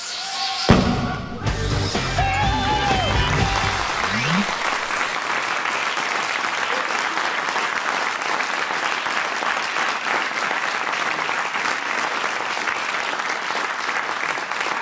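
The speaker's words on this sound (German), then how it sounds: "Applaus!" Studio audience applause on a German political satire comedy show, a dense, loud, sustained roar of clapping that runs unbroken to the end, with a brief sung or voiced phrase mixed in at the start.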